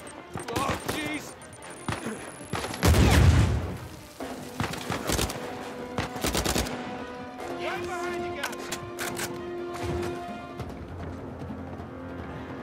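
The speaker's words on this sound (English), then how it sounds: "Oh my god, bullets, guns, galore." Gunfire in the video game Uncharted 4, heard as bursts of shots and a heavy blast mixed with other game effects and a player's voice talking over the action.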